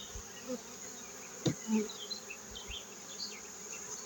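Honey bees buzz around an open hive during an inspection, a steady close drone with individual bees zipping past, fairly faint and without talk.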